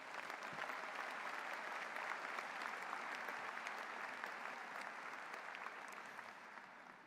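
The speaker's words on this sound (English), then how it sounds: "Let's give them a round of applause." A large audience at the Pitt 2024 spring commencement ceremony breaks into sustained applause, dense and even throughout, easing off slightly near the end, with no speech.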